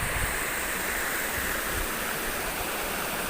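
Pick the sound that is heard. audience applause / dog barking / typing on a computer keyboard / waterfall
waterfall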